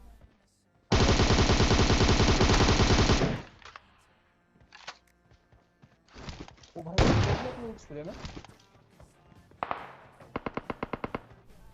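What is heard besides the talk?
gunfire in the video game PUBG Mobile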